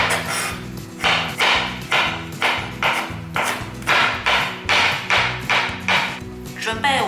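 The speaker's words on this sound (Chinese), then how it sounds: "切成姜末" A knife chopping fresh ginger into mince on a cutting board, about a dozen sharp, evenly spaced knocks at a brisk steady rhythm, close and loud, while a voice talks underneath.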